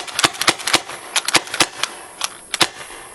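A JT ER-2 paintball marker converted to constant air fires on auto trigger, giving sharp, close pops in quick irregular bursts of about a dozen shots, with no talking.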